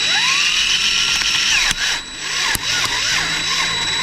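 Drill boring out a broken bolt (a snapped tap) in an OM612/OM647 diesel engine cylinder head, a steady high-pitched whine with grinding chatter and two brief sharp breaks in the sound.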